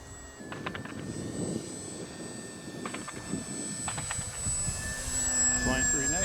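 An H-King Savage Bobber compact STOL RC airplane flies on its maiden flight, its small electric motor whining at varying distance with faint rising tones, while people talk and react nearby in bursts throughout.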